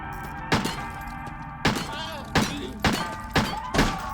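Gunfire at an enemy in the video game Crow Country: six sharp, punchy shots ring out at irregular intervals over a quiet, ambient game background, loud and close, with no talk.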